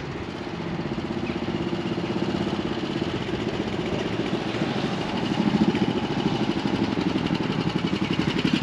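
A single-cylinder motorcycle engine runs steadily as a rider approaches on very wet roads, a continuous low thumping drone with a slight swell in loudness toward the end, no talk over it.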